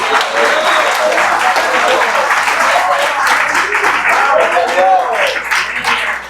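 A congregation claps together at an evangelical church service, producing loud, sustained applause with a faint murmur of voices beneath it, fairly close and even throughout.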